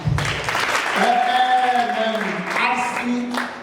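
An audience at a provincial awards gala dinner applauds with a steady wash of clapping, while raised voices call out and cheer over it and a prominent shout rings above the crowd.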